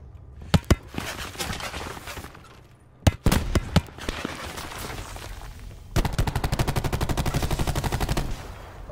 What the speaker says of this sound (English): there's people shooting, northeast